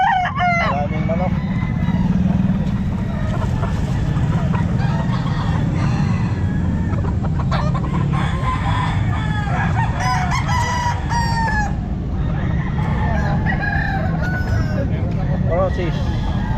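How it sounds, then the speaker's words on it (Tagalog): Many chickens and roosters at the Calumpit pet market, with repeated crowing and clucking from several birds over a constant loud market din, people talking in the background. "Maraming manok."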